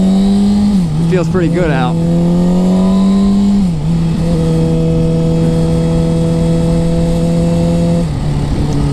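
A 2007 Kawasaki ZX6R Ninja 600 sportbike engine hums steadily at a close, loud level while riding, with a rising rev sweep near the start and a gear-change dip midway, under someone talking over it.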